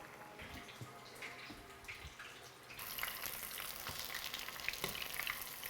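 Shrimp deep-fry in oil at around 375 to 400 degrees with a dense, crackling bubble. The sizzle turns noticeably louder and brighter partway through as more shrimp go in, and no voices are heard.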